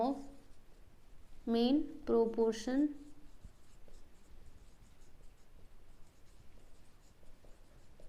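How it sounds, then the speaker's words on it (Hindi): Marker or chalk strokes on a board while working an algebra problem, soft faint scratching in short bursts, with someone speaking clearly over the start. "चलो इधर लिख देती हूँ"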